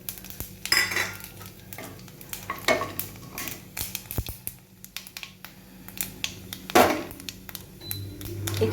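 Fennel seeds and a dried red chilli tempered in oil in a wok, with clinks of a utensil against the pan and soft sizzling; sharp metallic knocks stand out near the start, middle and end over a steady low crackle.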